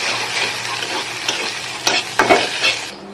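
Egg frying with onion and chili in a pan, a loud close hissing sizzle broken by a few sharp scraping stirs near the end, with no talking.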